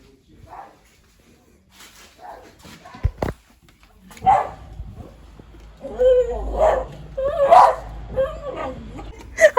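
A dog barks several times in a row at a family home, apparently at cats, with people talking nearby.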